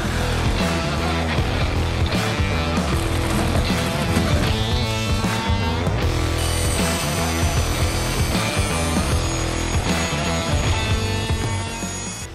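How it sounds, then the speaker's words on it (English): A right angle drill spins a mixer paddle through thin set mortar in a bucket, a loud continuous grinding, scraping whir that runs unbroken for several seconds before tailing off near the end. "we got our mixer chucked into our right angle drill"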